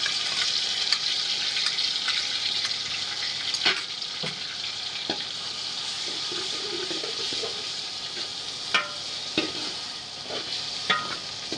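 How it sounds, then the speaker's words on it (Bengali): Tomato paste fries with onions in hot oil in a pan for a spicy beef roast, a steady soft crackling sizzle broken by occasional clicks and scrapes of stirring. "টমেটোর পেস্টটা একটু সুন্দর করে ভাইজা নিলে এই পেঁয়াজের সাথে খুবই ভালো লাগে"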